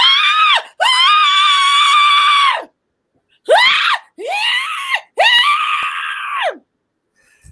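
A voice imitates another man screaming: a series of loud, drawn-out, strained screams, some long and some short, separated by brief silences.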